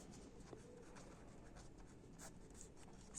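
Faint writing on paper for a math lesson, a soft continuous scratching of pen or pencil strokes up close, quiet and steady with no voice over it.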